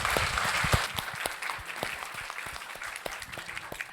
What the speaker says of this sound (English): please give Anna a big round of applause